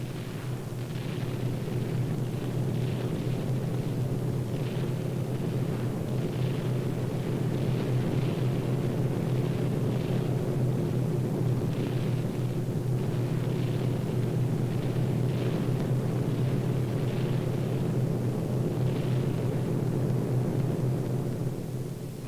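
A-20 bombers attack rail yards between the Seine and the Belgian border in 1944. Steady heavy aircraft roar runs throughout, loud and unbroken, with a dense rumble of distant explosions beneath.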